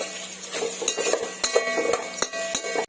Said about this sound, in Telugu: ఇవి గోల్డెన్ బ్రౌన్ కలర్ వచ్చేంత వరకు మనం ఫ్రై చేసుకుందామండి.